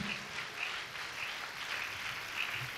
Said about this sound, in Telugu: చప్పట్లు కొట్టి దేవుడు మహింపరుద్దాం గట్టిగా